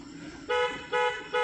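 A car horn honks three times in short repeated blasts, loud and close, over a low rumble of road noise.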